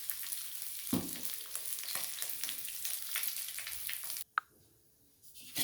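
Fish heads sizzle hard in hot oil in a wok for a pui shak chorchori, a steady close crackle that runs for about four seconds and then cuts off abruptly, leaving near silence.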